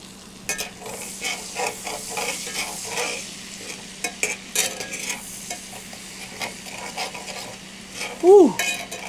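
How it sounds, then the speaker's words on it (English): Shallots frying in butter in a pan while being stirred, a soft continuous sizzle broken by scraping stir strokes, close by, ending with a short high squeak. "I'm gonna hit it with some shallots here."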